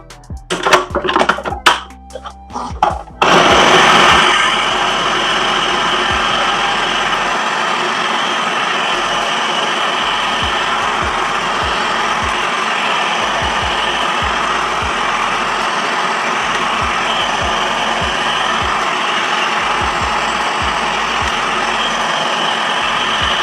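An Amazon Basics food processor runs at close range with a loud, steady motor whir and whine, starting after a few seconds of clattering handling noises and then holding constant with faint rattling underneath.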